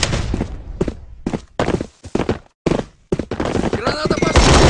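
Sharp pistol shots in Jurassic World Evolution 2 crack out in quick bursts, separated by brief gaps, with a person talking in Indonesian over parts of the sequence.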